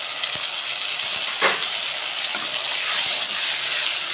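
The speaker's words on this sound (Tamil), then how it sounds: "இந்த சமயத்தில் தக்காளி ஆட் பண்ணிக்கலாம்" Ground tomato is tipped into a pan of sautéing onions for garlic kuzhambu, setting off a steady, close sizzle with a brief splash as the puree hits the oil and no talking.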